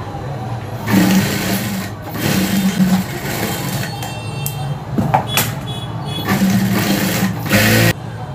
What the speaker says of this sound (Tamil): நம்ம ஸ்ட்ரைட்டாக ஒரு தையல் போட்டுக்கொள்ளுது.